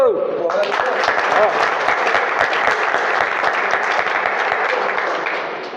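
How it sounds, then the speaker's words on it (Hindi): A crowd at a ceremony honouring Rajput villages breaks into dense, steady applause that starts abruptly, holds for several seconds, then tapers off at the end. "ताली तो बजा दो"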